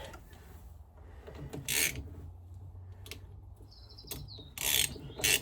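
A ratchet with an extension tightens aluminium bolts on a Mercruiser Alpha 1 gimbal housing, giving a few short bursts of rapid clicking separated by quiet pauses, with a faint bird chirp.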